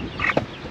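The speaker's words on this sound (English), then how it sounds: "we have a few chickens left over in this coop" A few chickens left in a coop on a farm in the Philippines give a brief cluck and squawk, two quick close calls within a fraction of a second, with no talking.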